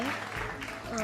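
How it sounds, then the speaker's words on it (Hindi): Studio audience applause during a televised Ramzan quiz programme, a brief burst of clapping mixed with voices talking over it. "तालियां होनी चाहिए"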